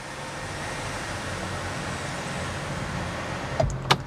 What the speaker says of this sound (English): Opening the sunroof